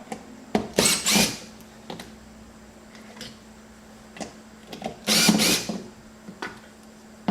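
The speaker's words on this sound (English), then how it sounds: "the first thing is we'll just take these 4 screws out" Screws are backed out of the fuel fill cup on a Jeep TJ gas tank, heard as two short, close bursts of whirring from a power driver with light clicks and ticks between them.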